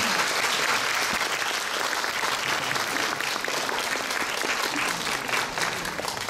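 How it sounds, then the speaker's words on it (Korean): Film festival audience at a Busan screening Q&A applauds the director and cast of the film Assassination, a steady, dense wash of clapping that holds evenly throughout. "지금 와 계시니까 큰 박수로 맞아주시기 바랍니다"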